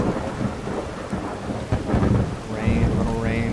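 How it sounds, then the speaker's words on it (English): Heavy rain pours steadily in modded Skyrim while thunder rumbles and cracks through the storm, loud and continuous with no voices. "It is raining pretty hard."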